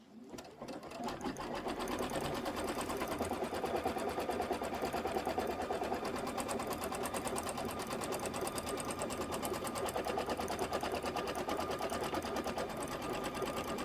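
Embroidery machine stitching a design onto felt for a bench pillow, a rapid, even mechanical needle chatter that starts up and runs steadily and close for the whole stretch, no voices.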